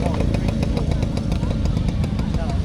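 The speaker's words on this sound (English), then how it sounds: "Now the good old quacker, the Kawasaki, the 750." A Kawasaki 750 motorcycle pulls away at a steam and craft show, its engine giving a rough, rapid pulsing drone at moderate distance, partly under a commentator's voice.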